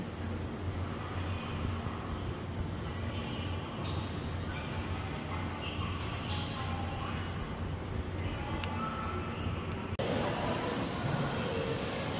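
Low rumbling of a bullet train at Pohang Station, South Korea, with rattling and mechanical hum, a few clanks and a faint tone, heard from inside or near the carriages.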